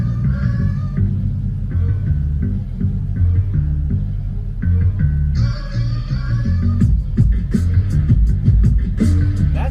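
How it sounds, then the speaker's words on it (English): Recoil 10-inch active subwoofer in a car playing music on its lowest setting, a steady deep throbbing bass with a fainter melody and beats above, no talking. "I have it on the lowest setting on here right now, which sounds good, but it gets even better."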